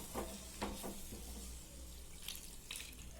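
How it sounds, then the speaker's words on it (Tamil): Water pours into chicken masala in a cooking pot, making a soft, steady splashing stream with a faint sizzle, quiet and close, with no talking over it. "தண்ணி ஆட் பண்ணிக்கோங்க."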